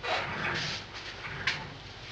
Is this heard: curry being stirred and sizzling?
no